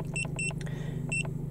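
An Autel MD808 Pro diagnostic scanner, plugged in under a VW's steering wheel for an airbag light reset, gives short, clear electronic beeps: two quick ones, then one more after a pause, over a low hum.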